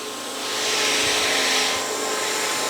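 A Bissell CrossWave 2554a cordless wet-dry vacuum runs on suction alone, a loud steady whirring roar that swells slightly, heard close with no one talking.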